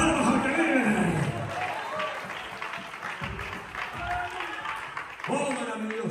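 A church congregation claps at a 25th-anniversary Spanish-language service, with rhythmic clapping under loud music and a speaking voice throughout.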